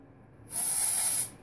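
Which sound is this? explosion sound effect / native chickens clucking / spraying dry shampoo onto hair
spraying dry shampoo onto hair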